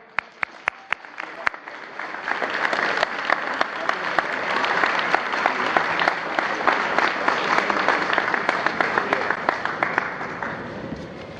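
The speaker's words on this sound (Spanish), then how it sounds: "let's put our hands together for the ambassador of Cuba" An audience at a Toronto-Cuba Friendship Day event applauds the Cuban ambassador, starting with a few isolated claps that swell into sustained, dense clapping from a sizable crowd, holding steady for about ten seconds before easing.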